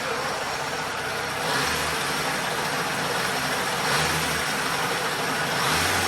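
A small Yamahopper moped engine roars steadily at high revs, swelling a little in a few surges, loud and continuous with a low rumble underneath.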